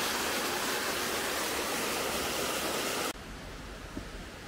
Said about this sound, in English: There's the waterfalls.